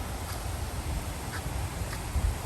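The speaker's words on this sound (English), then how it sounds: "There's a lot of ducks here." Faint duck quacks come through a few times over a steady background rumble.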